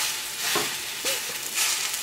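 Hash browns sizzling in coconut oil in a pan just after being flipped, a steady close frying hiss with a few soft spatula scrapes.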